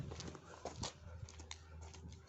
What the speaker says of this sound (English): probably you're hearing a lot of background noises like dogs and my brother trying to play drums